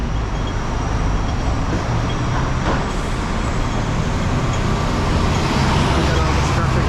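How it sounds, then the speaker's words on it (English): Steady, dense road traffic on a busy Macau avenue, Avenida do Conselheiro Ferreira de Almeida, with cars, buses and trucks forming a continuous loud roar throughout. "We got all this traffic to kind of wait for."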